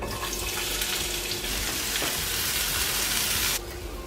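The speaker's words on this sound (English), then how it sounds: "I'm going to put my peppers, garlic and onions in to fry gently" Peppers, garlic and onions frying gently in a little rapeseed oil, a steady close hiss of sizzling that runs evenly, then drops suddenly near the end.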